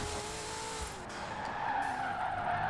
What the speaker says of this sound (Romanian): Mamă, cât am frânat.